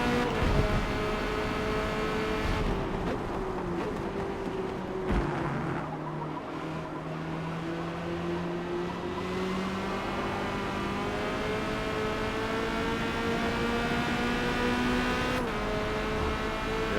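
Corvette C8.R race car engine lapping Hakone in a racing video game, a steady sustained drone with gradual pitch rises and drops through gear changes, continuous and fairly loud with no voices.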